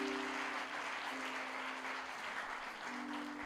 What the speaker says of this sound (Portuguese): Dê uma salva de palmas, Senhor, esse Deus, pastor Ney.